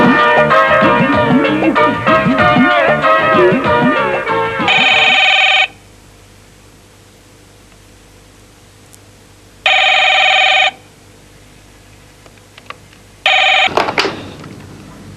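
An old-style telephone bell rings in loud bursts, with a long ring followed by two more separated by quiet gaps, after talk at the start.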